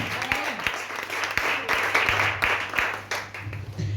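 Church congregation applauding during a worship service: dense, continuous clapping from many people, with some voices mixed in as it swells and dips.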